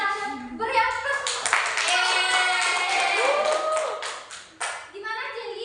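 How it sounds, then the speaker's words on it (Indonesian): Classroom applause for a student who has just presented at the front, a burst of clapping mixed with children's voices that fades after about four seconds, then a teacher speaking. "Beri aplaus."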